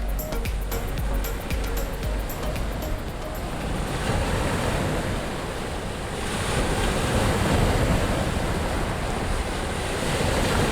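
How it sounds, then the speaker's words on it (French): Rough ocean surf in a Unity-built video game roars steadily with crashing, hissing waves and wind noise, swelling slightly louder partway through. "on devrait entendre les vagues de plus en plus fort"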